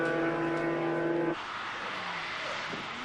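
Touring-class race cars at the SCCA Runoffs sweep through Canada Corner, a loud high engine note holding then dropping away abruptly as they pass, followed by fainter engine noise from cars further off.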